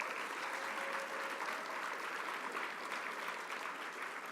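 Faint, steady applause from a seated audience at a conference closing ceremony, a continuous even patter of many hands heard from a distance.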